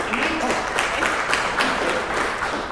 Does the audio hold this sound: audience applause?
yes